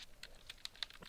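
Quick bursts of keystrokes on a computer keyboard while entering GML script code in GameMaker, several crisp, close taps in rapid succession with no voice.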